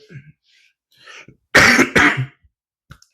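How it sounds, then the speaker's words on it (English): Two loud, harsh coughs in quick succession, close to the mic, with faint murmured sounds before and a small click after. "I'll get rid of this cough."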